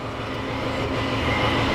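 Tractor hydraulic pump whining as it warms up, a steady mechanical drone with a high whine that holds evenly and grows slightly louder, close by, with no talking.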